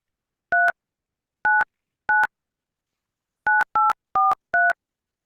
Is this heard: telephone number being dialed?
yes